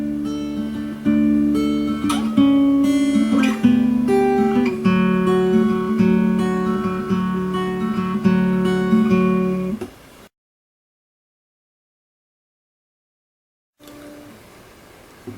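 Acoustic guitar plays a riff, picked single notes ringing over bass notes in a steady rhythm, close and clear for about ten seconds before stopping into silence, then a faint return.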